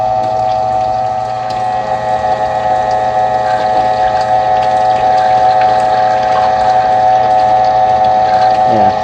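A pump drives water through a 5-gallon bucket filter for a 50-gallon duck pond, making a loud, constant mechanical hum with a steady whine and rushing water, close by for the whole stretch.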